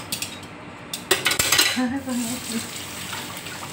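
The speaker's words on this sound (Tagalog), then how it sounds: "Hugas muna tayo ng plato." Dishes and pots used for cooking the sticky rice cake biko being washed at a sink, with clattering crockery, clinking utensils and running water from the tap, close and busy.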